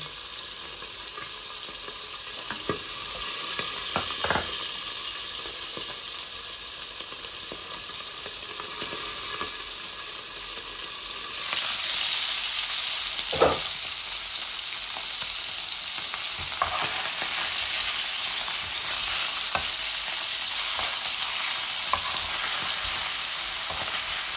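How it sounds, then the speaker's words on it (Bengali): An English fish head curry with potato and tomato sizzles and bubbles steadily in a pan, a continuous hiss with occasional louder pops and stirring clinks, no talk. "জালটা একটু বেশি করে দিয়ে দিয়েছি, তাই ফুটতেছে চতুর্দিকে।"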